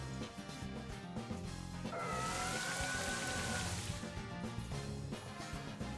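Rain weather in a Pokémon video game makes a dense, steady hiss of falling rain. Game tones and soft hits sound through it, with no talking.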